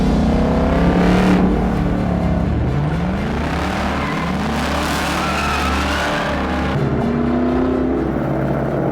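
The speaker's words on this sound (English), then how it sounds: "This is the new Mustang GT." A 2025 Ford Mustang GT V8 roars loudly and close as it drives, its pitch climbing and dropping through repeated gear changes, with no talk over it.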